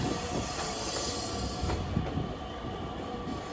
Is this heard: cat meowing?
no